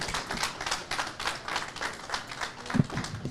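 Audience applause at a political gathering where a party opens offices in Minnesota, a steady patter of many hands clapping fairly near, with one sharper loud clap toward the end.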